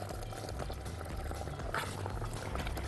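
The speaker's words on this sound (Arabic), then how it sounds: "5 دقايق يغلي شويه، اخر 5 دقايق بالظبط" Tomato jam thickened with gelatin boils steadily in a pot during its last few minutes of cooking, a continuous close bubbling and spluttering with no voices.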